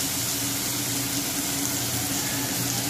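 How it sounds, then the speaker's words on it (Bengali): Shrimp fry in hot oil with a dense, constant sizzle and crackle, close and loud throughout with no pauses. "এইভাবে চিংড়ি মাছগুলো ভেজে নেবো"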